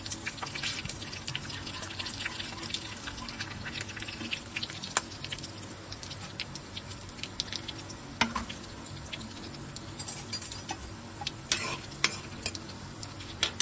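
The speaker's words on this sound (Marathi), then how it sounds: "आता आपण तेलात हे सगळे खडे मसाले सोडणार आहे" Whole spices crackle and sizzle in hot oil at the start of a chicken keema masala, with scattered sharp pops and stirring clicks over a steady low frying hiss.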